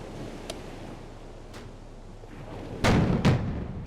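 Naval ship guns fire in the World War II sea-battle video game Victory at Sea Atlantic: a few distant muffled booms over a constant low rumble, then two louder, closer blasts near the end.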